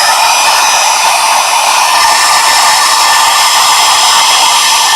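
A heat tool runs continuously at close range, warming DSP craft paper as it is passed back and forth over a sympathy card in a crafting session; a loud, steady whooshing blow with no talk.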